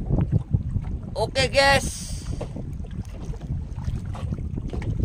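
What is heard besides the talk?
fishing boat motoring home on the sea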